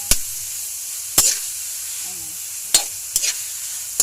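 Bitter gourd (ampalaya) and ground pork sauté in a pan with a steady soft sizzle, broken by four or five sharp scraping stirs of a utensil; a brief faint voice murmurs midway.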